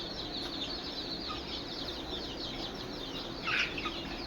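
A free-range desi hen with nine chicks clucks softly nearby while the chicks keep up a busy high peeping, with a brief louder burst near the end.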